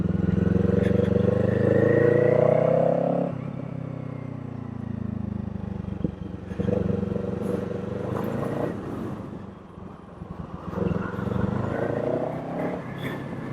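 Kawasaki Eliminator motorcycle engine riding through slow practice turns in an open lot, a steady close drone that eases off partway and then rises and falls with the throttle.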